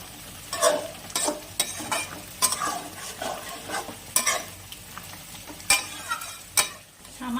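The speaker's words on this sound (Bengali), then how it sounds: "এবার এর মধ্যে অল্প ধনেপাতা কুচি দিয়ে দিব। দিয়ে ভালো করে নাড়াচাড়া করে নেব।" Drumstick stems with chopped coriander are stirred in a frying pan for sajne data chorchori, with a steady sizzle broken by repeated sharp spatula scrapes at an uneven rhythm, close and clear.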